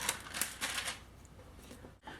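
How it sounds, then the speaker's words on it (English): Scotch tape peeled off paper at close range: a few crackly, rasping pulls in quick bursts, then quieter rustling and a short final tug, with no talking. "So I'm going to remove my tape"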